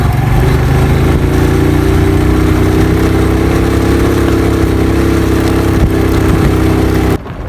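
A motorcycle engine runs steadily and loudly close by throughout, a continuous droning hum that cuts off abruptly near the end, with no talk over it.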